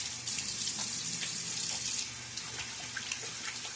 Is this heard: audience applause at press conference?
no